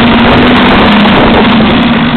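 Rebuilt 1HC diesel engine in a 1991 Toyota Land Cruiser, heard as a loud, steady, droning engine roar with a strong low hum throughout, close to the microphone with some wind buffeting and no talk.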